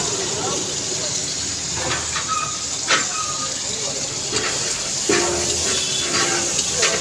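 Ginger garlic paste fries in a pan with a continuous loud hiss and a few sharp spatters and clinks up close, while someone talks over it.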